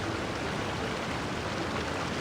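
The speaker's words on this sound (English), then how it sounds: "he's meditating while sitting in a waterfall" Steady, even rush of falling water from a waterfall in the game Genshin Impact, a constant broadband roar with no breaks across the short stretch.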